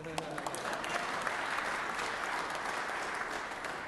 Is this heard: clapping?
yes